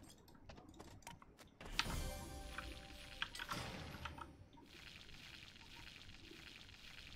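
Drinking water poured in a steady trickling stream that swells for a few seconds and then thins out, quiet and close over faint background hiss with scattered small ticks.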